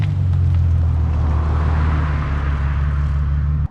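A Bentley Continental GTC, a heavy convertible sports car, cruises along the road with a loud, smooth, low engine and road rumble that stays steady and close before cutting off abruptly at the end.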